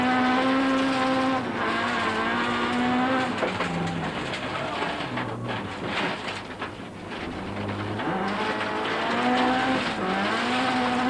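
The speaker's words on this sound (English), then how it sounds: "Going back in car with Damso, watch out for how he almost spins the car, but recovers superbly, hardly missing a beat" A rally car at the Cape Rally 2003 nearly spins and recovers, its engine roaring loud and close with rising and falling revs, a possible brief tire squeal mixed into the strained, shifting drone.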